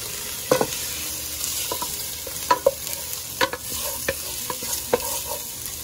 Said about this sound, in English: Now I'm gonna start sauteing our onion.